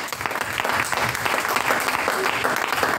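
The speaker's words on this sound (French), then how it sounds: "Nous allons acclamer notre Dieu." A church congregation applauding its God during a worship service, dense and sustained clapping from many hands filling the room without a break.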